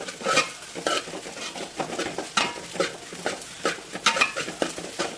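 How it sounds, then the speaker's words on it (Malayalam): A spatula scrapes and knocks against a pan while chicken fried rice with egg is stirred and mixed, irregular metallic clacks and scrapes over a soft sizzle, close and alone with no talk. "ഇനി നമുക്കിതെല്ലാം കൂടെ ഒന്നിച്ച് മിക്സ് ചെയ്തെടുക്കാം"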